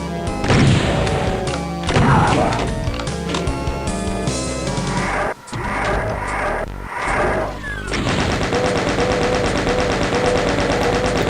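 Rapid, sustained chain gun fire from a Doom map in a video game, loud and dense, layered over game music with a brief break near the middle.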